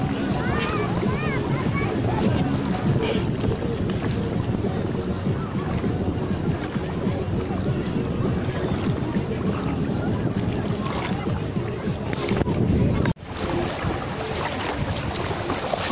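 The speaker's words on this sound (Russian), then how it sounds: "это море." Sea waves wash on a shallow Anapa beach, a steady broadband surge with wind buffeting the microphone throughout, loud and continuous with no clear breaks.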